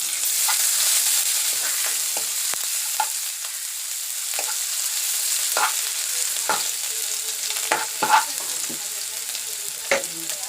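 Ginger-garlic paste with turmeric and red chilli, after fenugreek seeds, fries in a pan as a steady bright hiss, broken by occasional soft clicks and scrapes of stirring.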